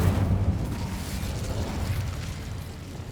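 Incendio fire spell cast in Hogwarts Legacy, a dense rumbling whoosh of flame that starts loud and roars on steadily for several seconds.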